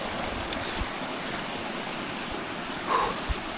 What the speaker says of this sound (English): since all that water is coming down through there